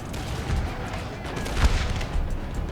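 Musket volleys from massed infantry in Napoleon: Total War, a rolling crackle of gunfire with a few heavier booms, fairly loud against a constant battle din, with a voice partly over it.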